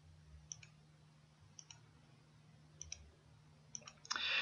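Computer mouse clicks while drafting in Autodesk Revit, sharp, faint double clicks spaced about a second apart, with a quiet hum beneath and no talking.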